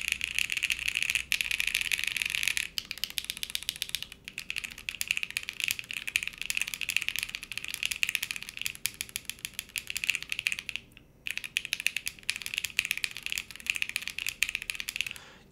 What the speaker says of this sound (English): I'm just clicking random keys right now